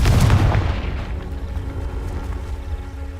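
A Confringo fire spell blasting in the Hogwarts Legacy video game, one deep booming explosion up front that rolls off into a low rumbling tail.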